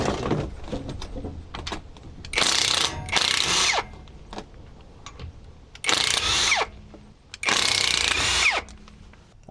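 Ratchet removing the rear differential cover bolts on a vehicle at 70,000-mile maintenance, with several loud bursts of rapid clicking separated by quieter pauses and handling noises, close up with no talk.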